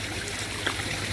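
Water streams steadily from a small shower at a swimming pool, a close, continuous splashing trickle with no voices.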